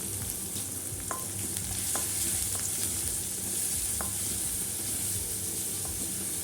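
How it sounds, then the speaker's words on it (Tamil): Crushed small shallots fry in hot oil with popped mustard seeds for egg kulambu, giving a steady faint sizzle with a few sharp little pops, no talk. "கடுகு பொரிஞ்ச பிறகு நம்ம வெங் சின்ன வெங்காயமும் ஒன்று ரெண்டாக தட்டி வச்சுருந்தோம் இல்லையா அதை சேர்த்துக்கோங்க இது நல்லா செவந்து வரணும்"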